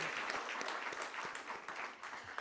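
A crowd at an asset management company's stock listing ceremony claps together, a soft, steady wash of applause heard from a distance for a couple of seconds.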